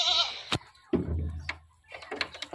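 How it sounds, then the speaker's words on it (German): Goats bleat on a farm in Egypt, a couple of nasal cries close by with scattered knocks and rustling between them and some faint background voices. "Die Heidi kann die Ziegen nicht besonders leiden"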